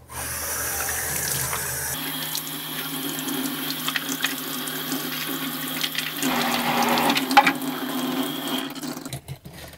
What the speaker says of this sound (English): And we can also rinse this all off.